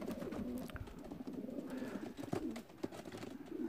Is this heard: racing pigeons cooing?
yes